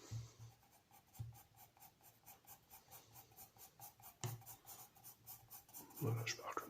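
Pencil strokes drawing a ground line on paper in a drawing lesson, a soft repeated rhythmic scratching in steady short strokes, close and quiet, with a few louder scrapes.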